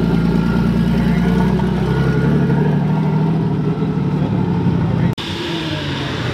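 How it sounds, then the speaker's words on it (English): A car engine at a muscle car meet crackles and pops on a two-step launch limiter, loud and close, holding steady for about five seconds before cutting off sharply, then idling on. "Oh, somebody's got the two-step."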